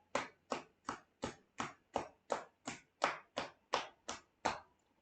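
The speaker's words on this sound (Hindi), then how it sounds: "अब करेंगे हम ढोलक ताली बजाएंगे" Thirteen crisp hand claps keep an even, steady beat during a guided exercise routine, each sharp and close with brief quiet gaps between, no talking over them.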